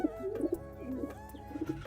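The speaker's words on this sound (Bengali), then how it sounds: "তোমাদের আমার বাড়ির কবুতর যে কটা আছে দেখাচ্ছি" Soft, low cooing from pigeons in a home loft runs in a short, continuous murmur, close and fairly quiet.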